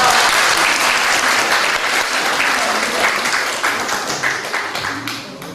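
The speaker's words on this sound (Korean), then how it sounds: "박수 하겠습니다." A church congregation at a youth dedication service breaks into loud, sustained applause, steady and close for several seconds before thinning slightly toward the end.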